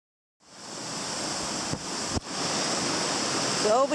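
Steady broadband rushing water from a waterfall, loud and continuous, with a couple of brief knocks partway through and no talk over it.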